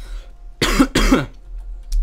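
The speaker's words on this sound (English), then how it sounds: "My cough wasn't this bad before I started." Two close, harsh coughs from a person nearby, each a short burst, with a faint hum of computer game audio in the background and a brief high blip at the end.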